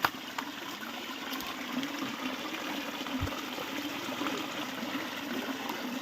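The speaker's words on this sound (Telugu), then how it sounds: "రాయిల మధ్యలో నుండి వస్తుంది వాటర్." Water rushes and gurgles between rocks at a waterfall in Devunoor, a steady, fairly loud continuous stream of splashing flow heard up close without talk.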